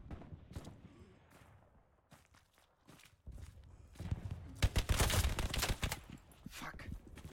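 Gunfire in a World War II game set on Utah Beach on D-Day 1944, with a burst of loud, sharp reports clustered near the end after quieter footsteps and movement.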